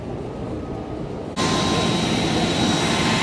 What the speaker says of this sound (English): Airplane